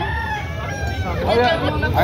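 A rooster crows at a rooster farm, a fairly close call rising over background murmur and someone talking throughout.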